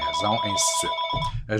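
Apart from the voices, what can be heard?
telephone ringing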